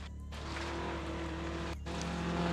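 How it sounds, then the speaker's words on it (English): A Toyota Celica rally car runs along a gravel road at a sprint rally, its engine a steady distant drone heard from afar, with faint mechanical rises and no talk. "That's the Wilson Celica in shot there now."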